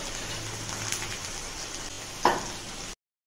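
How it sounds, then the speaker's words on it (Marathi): Okra frying in hot oil in a wok over a gas flame gives a steady close sizzle throughout, with a brief sharper spatter burst near the end. "गॅसवर कढई ठेवून तेल तापत ठेवलेले आपण भेंडी फ्राय करून घेऊया।"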